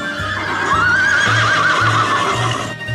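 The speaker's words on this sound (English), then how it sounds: "Horse." A horse whinnies loudly and close, a long wavering neigh rising and falling over about two seconds, with a faint rhythmic thumping of hooves underneath; no one speaks.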